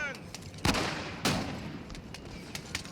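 Musket volleys crack out in Napoleon: Total War, two loud broadband bursts of massed fire standing out above a steady din of scattered distant shots across the battlefield.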